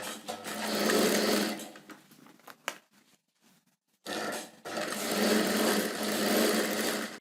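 A sewing machine runs in two bursts of steady stitching as it sews a folded neck edge of blouse fabric, with a short pause and a few small clicks in between.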